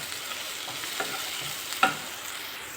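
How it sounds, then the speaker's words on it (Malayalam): Onions fry in a pan with green chillies and curry leaves for an egg mappas, making a soft steady sizzle with a few faint stirring taps and one sharper clink of a spoon against the pan. "നമുക്ക് പച്ചമുളക്, കറിവേപ്പില ഇതും കൂടെ ഇട്ട് നമുക്ക് നന്നായിട്ട് വഴറ്റിയെടുക്കാമേ"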